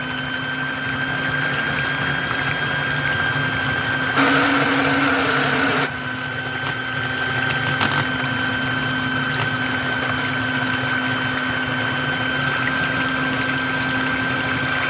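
An electric hand mixer beats mayonnaise in a bowl, a steady high motor whine and buzz running throughout, with a brief louder, rougher stretch in the middle, close and with no talk.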